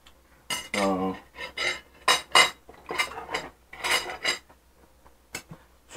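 Spoon and cutlery clinking against a dish while pork cutlet is eaten, a few light scattered clinks mixed in with nearby chatter and eating noises.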